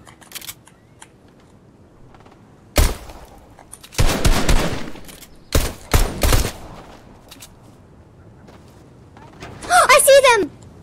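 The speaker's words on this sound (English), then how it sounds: "I hear a pistol." Pistol gunfire in a Fortnite match, heard as a few sharp cracks and short bursts spread across the clip, fairly close and loud, with a bright synthetic game tone near the end and faint background chatter.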